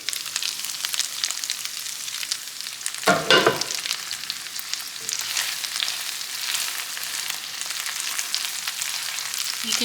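Sausage fries in a pan for a breakfast freezer meal, giving a steady close sizzle with a brief louder clatter of stirring partway through, no voices.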